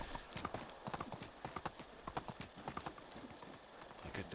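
Horse hooves clip-clop in a quick, even rhythm while riding a mount in the video game Medieval Dynasty, faint and steady with a soft rustle underneath.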